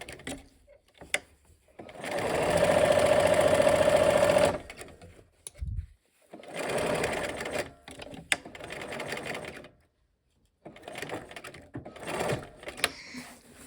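A home sewing machine runs in short bursts while back stitching fabric, a close mechanical whir with a steady rapid needle rhythm, pausing and restarting several times with small clicks and handling noises in between.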